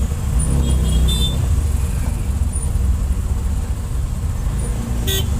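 Dense road traffic at a busy city signal in Tamil Nadu, a steady roar of engines close by with short car horn toots popping out now and then, no talking.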